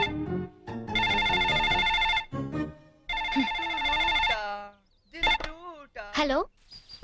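A telephone rings indoors in two electronic bursts of about a second each, with voices talking between and after the rings.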